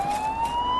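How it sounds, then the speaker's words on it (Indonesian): A police siren wails steadily at a distance, its tone holding high and clear throughout. "tiba-tiba saja ada suara sirine polisi"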